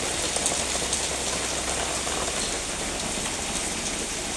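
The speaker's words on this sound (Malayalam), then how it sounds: "നല്ല മഴയാണ്, ഇരുണ്ടൂടിന് വരിക പെയ്യ മഴ." Heavy rain pours down in a dense, constant roar, loud and close, with no voices or pauses throughout.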